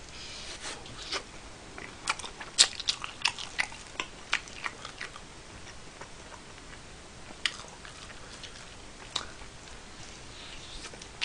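Close, crisp biting and chewing of spicy pork ribs at a mukbang, a series of sharp crunchy bites and smacking chews in irregular bursts over a quiet background.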